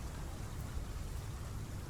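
Steady rain falls in the Path of Titans dinosaur game, a constant soft hiss with low rumbling underneath, even and unbroken for two seconds with no voices.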